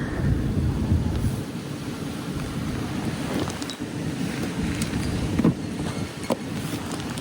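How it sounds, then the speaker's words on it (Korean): Strong wind buffets a parked car at a highway rest stop, a steady loud broadband roar with gusty rumble and a few sharp clicks, with no voices. "진짜 바람 장난 아니에요."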